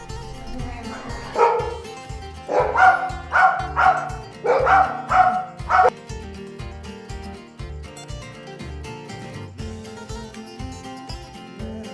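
Dogs in a barn bark in short repeated bursts at mid distance, several sharp woofs clustered together, over a steady rhythmic background thumping.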